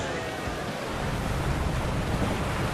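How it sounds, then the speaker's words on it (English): A ship casting off from the docks in Final Fantasy 14, steady ocean waves and wind washing in a dense, constant rush, loud and unbroken for the few seconds, with a voice speaking over it. "And so does our ship cast off from the docks."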